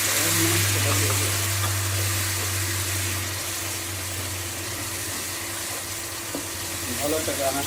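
Beef pieces dropped into a hot pan of oil, spices and onions for a red beef bhuna, a loud continuous sizzle and frying hiss that fills the whole stretch and eases slightly over time, with faint background sounds.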